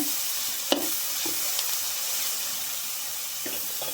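Onions fry in hot oil with mustard seeds and curry leaves, making a steady close sizzling hiss with a few soft stirring knocks and scrapes and no talking.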